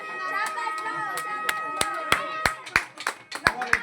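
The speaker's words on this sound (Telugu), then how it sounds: "చప్పట్లు." Scattered hand clapping breaks out at a school award function, sharp claps thickening into brief applause over a steady murmur of children's voices and chatter.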